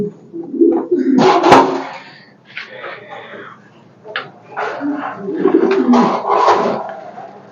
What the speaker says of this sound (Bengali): আর এপাশে হচ্ছে আপনার নরকবুতর এগুলো মাসাল্লাহ দেখেন